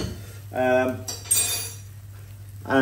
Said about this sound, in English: Just a quick mix around and then back in the oven.